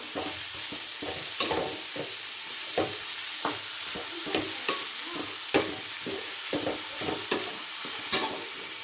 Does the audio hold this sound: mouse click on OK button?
no